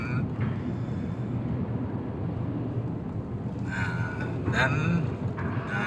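Ferry ship at Bakauheni port, Lampung, during disembarkation: a steady low engine rumble and wind-blown noise fill the scene, with faint clanks and hisses rising now and then near the end.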